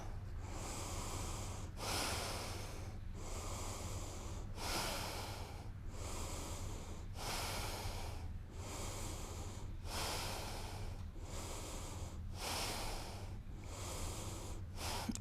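Slow, deep breaths during a yoga breathing exercise, with about a dozen long airy inhales and exhales in a steady rhythm. They are close and soft, with no talking over them.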